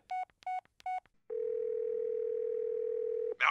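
Three short beeping dial pulses, then a long steady telephone dial tone holding for about two seconds before a sudden cut, all clear and close, in an anime parody skit.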